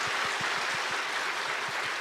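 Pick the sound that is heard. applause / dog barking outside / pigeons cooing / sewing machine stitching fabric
applause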